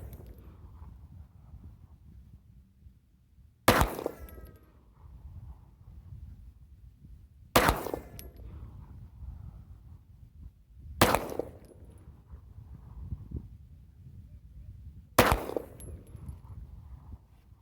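Four loud, sharp gunshots sound alone, evenly spaced about four seconds apart, from a Glock 9mm with a stabilizer brace and no suppressor, firing subsonic handloads of 4.5 grains of Longshot powder.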